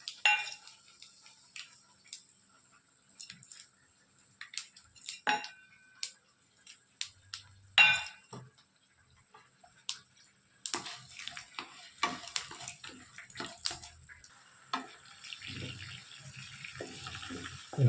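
Peanuts, cumin, cashews, mustard seeds and urad dal stirred and roasted in a pan for mint rice, with scattered close metallic scrapes and clinks of a spoon, then denser sizzling and rattling stirring.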